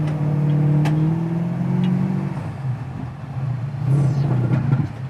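A 1968 Mustang GT/CS restomod's V8 idles and blips with a low, rumbling burble, rising in a couple of revs before settling back, close and loud with no talk over it.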